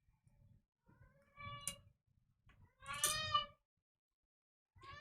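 A male cat meows twice, the second call longer and louder, with quiet rustling and clicking between the calls and a faint start of another cry at the end.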